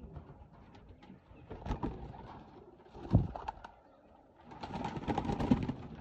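Pigeons coo in a few low, throaty bursts separated by quiet gaps, fairly close by.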